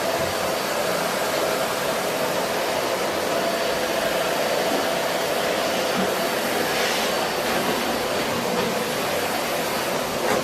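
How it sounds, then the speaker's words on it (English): Household vacuum cleaner running steadily nearby during house cleaning, a loud, continuous whooshing motor drone with no pauses and no talking. "let's vacuum this bit then"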